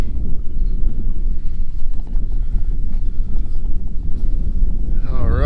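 Outdoor wind buffeting the microphone beside a 2022 Toyota Tacoma, a constant low rumbling roar with gusty fluctuations, loud and close, and a voice starts faintly near the end.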